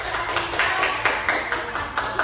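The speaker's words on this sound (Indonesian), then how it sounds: "semuanya kasih tepuk tangan" Schoolchildren applauding together in a classroom: steady, fairly loud clapping from a group, with regular accented beats running throughout and no talking over it.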